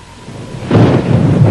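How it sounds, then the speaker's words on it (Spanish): A big thunderstorm over the desert near Roswell, New Mexico, with steady rain hiss that swells into a deep, loud rumble of thunder rolling on to the end. "hubo una gran tormenta en el desierto de los alrededores de Roswell"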